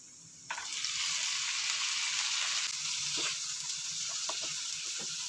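Chopped tomatoes hit hot oil with browned onion, garlic and bird's eye chilies for Bicol express, setting off a sudden loud, steady sizzle that holds close and even, with a few soft stirring clicks near the end.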